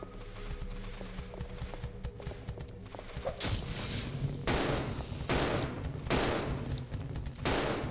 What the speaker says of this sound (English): Are you actually shooting them, Billy,